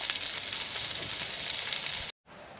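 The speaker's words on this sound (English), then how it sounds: "Sizzling nicely." Food sizzles and crackles steadily in a hot pan, close and constant, then cuts out abruptly before resuming quietly.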